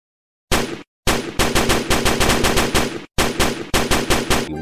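Rapid bursts of toy machine-gun fire rattle close and loud, broken by a few brief pauses between volleys.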